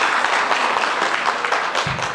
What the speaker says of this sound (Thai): ขอเสียงปรบมือในนามในการขอบคุณครับ